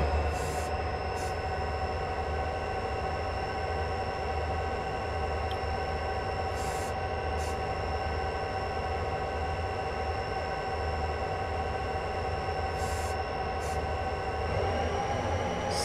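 A very long freight train climbing Soldier Summit between Provo and Helper in Train Simulator 2016 rumbles steadily for the whole stretch, carrying a constant drone of wheels and cars, thin metallic squeals and a few brief clicks.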